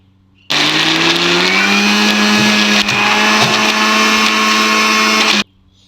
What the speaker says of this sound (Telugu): మిక్సీ జార్లో వేసేసుకొని ఇంకా మిక్సీ పట్టుకోవడం